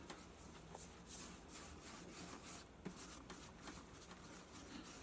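Fine 600-grit sandpaper rubbed in circles over a leather surface, a steady close scratchy rasping that swells and eases with each pass, continuous and alone with no talking.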